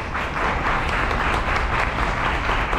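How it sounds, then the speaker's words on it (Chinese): Steady applause from a seated church audience welcoming the secretary general, Father He Jiyuan, dense continuous clapping filling the room at an even level throughout. "我们先用掌声来欢迎我们的秘书长何济元神父。"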